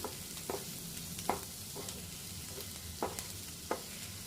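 Bitter gourd stir-fries with turmeric, chilli powder and green chillies, a quiet steady sizzle punctuated by regular spoon scrapes and taps against the pan, close and without talk.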